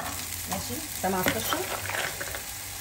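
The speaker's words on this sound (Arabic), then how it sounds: "انا جبت الطاسه سخنت شويه، هنزل عليها بالفول" Fava beans hit a heated pan on a gas stove and sizzle and crackle steadily, getting louder as they spread, while a short spoken exchange sits over the frying.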